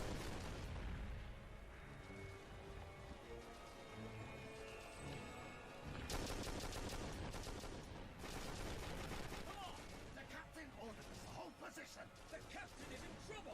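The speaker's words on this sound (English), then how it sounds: "It's meant to be bolters, but it just sounds like a standard submachine gun." Rapid bursts of automatic gunfire from bolter guns in an animated Ultramarines film crackle through a dense, loud action soundtrack, with voices talking over the shooting.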